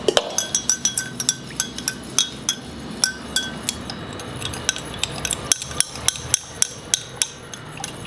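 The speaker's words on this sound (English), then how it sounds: "Put the warm water, say about so much in the tumbler, glass tumbler. Stir it till the sugar." A spoon stirs sugar into warm water in a glass tumbler, with rapid, regular clinks of metal against glass, loud and close, continuing steadily with no talk.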